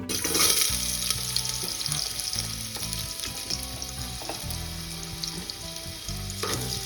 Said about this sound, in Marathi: आता इथे सर्वप्रथम मी बटाटे ऍड करून घेणार आहे कुकरमध्ये